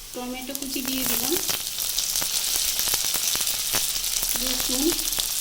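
Chopped tomatoes hit a frying pan with onions and spices, giving a loud, continuous sizzle with scattered crackles and stirring clicks, with a person speaking briefly at the start and near the end.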